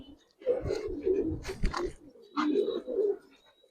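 Old-breed Bagha pigeons coo in low, rolling bursts. Nearby people talk intermittently over and between the birds' calls.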